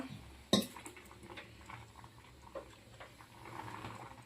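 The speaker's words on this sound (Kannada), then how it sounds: "ಅನ್ನಕ್ಕೆ ಅನ್ನ ಕುದಿಯಾಕತ್ತೈತಿ ಈ ಕಡೆ ಟೊಮೊಟೊ ಕುದಿಯಾಕಿಟ್ಟಿನಿ" Rice and tomatoes bubble softly in pots on a gas stove, a quiet steady simmer with one sharp click early on and faint clinks of cookware.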